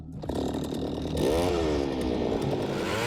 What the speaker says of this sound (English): We'll try to drill right over here, right on top of it.